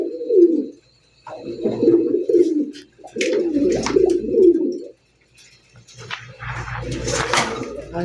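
Pigeons at a pigeon seller's coo in repeated low, throaty phrases, close and fairly loud, with short pauses between calls and some faint background sounds.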